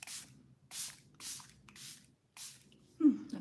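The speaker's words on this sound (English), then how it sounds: "we're gonna set it with the Rare Beauty Always an Optimist setting spray" Rare Beauty Always an Optimist setting spray misted over a made-up face in five quick, close bursts, each a short airy hiss separated by brief pauses.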